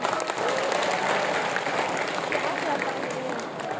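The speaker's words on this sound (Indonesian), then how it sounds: "Tepuk tangan untuk SMP 2." Applause from a school audience honoring SMP Negeri 2 Payakumbuh, dense steady clapping filling the room with a faint voice underneath, holding level throughout and easing slightly at the end.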